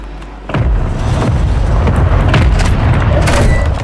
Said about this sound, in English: Mortar support incoming! Copy that, mortar strike inbound.